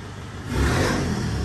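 A car fitted with an aftermarket muffler revs up sharply after a brief quiet moment, its engine roar swelling loud and close and then holding steady, with no voices.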